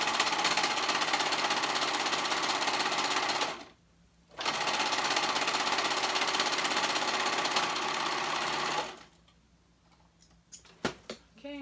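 A sewing machine stitching seams on boys' fly pants, a fast, even mechanical chatter running in two long bursts with a short pause between, then stopping for faint handling clicks.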